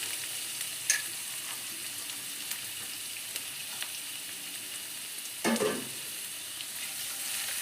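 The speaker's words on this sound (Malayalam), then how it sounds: "അതിലേക്ക് നമുക്ക് ഒരു മീഡിയം സൈസ് സവാള ചെറുതായി അരിഞ്ഞത് ചേർത്ത് കൊടുക്കാം." Chopped onion with ginger and garlic frying in hot oil gives a quiet, continuous sizzle and hiss, with a few soft stirring scrapes and knocks against the pan.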